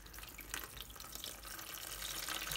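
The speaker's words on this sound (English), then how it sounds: "I'm going to add half of the amount water." Tap water poured into a bowl of yogurt while preparing Lebanese kibbeh bi laban, a steady close running stream with a faint, constant splashy hiss throughout.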